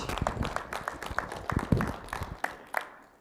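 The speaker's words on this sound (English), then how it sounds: "let's give her a round of applause" Audience applause at the close of a talk at a soybean herbicide strategy meeting, a moderate round of scattered claps held steadily for a few seconds before tapering off.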